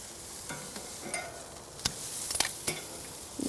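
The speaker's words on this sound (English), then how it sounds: "while we're pulling our shrimp off, we'll get the pineapple on the grill" Shrimp and pineapple sizzle on a springtime grill, a soft, steady hiss broken by a few sharp clinks and taps of utensils against the grill.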